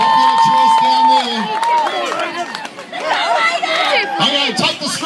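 Spectators in a school gym cheer for the C3 team at a tug of war, a loud burst of excited yells and whoops from many close voices that rises and falls, with chatter mixed in.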